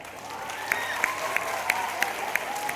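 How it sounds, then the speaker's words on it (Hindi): A crowd claps steadily for children at a road safety event at the Jalandhar Army Cantonment, a dense wash of applause with a few sharper individual claps ringing out at regular intervals. "तालियां बजाएं भाई आपके लिए।"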